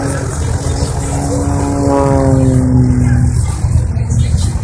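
Propeller aircraft fly overhead at the 2013 La Ferté-Alais air show, loud with a steady engine drone and a falling Doppler whine as a plane passes close by.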